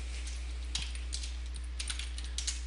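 Quick, light keystrokes on a computer keyboard come in short irregular bursts, faint and close against a steady low hum, with no talking.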